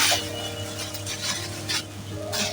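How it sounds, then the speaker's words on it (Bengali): Small shrimp frying in a pan, a soft steady sizzle broken by several brief scraping stir strokes, close and moderately quiet, with no voices. "ভেজে নিচ্ছি।"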